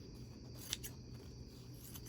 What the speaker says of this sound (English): So I'm just going to take this with scissors.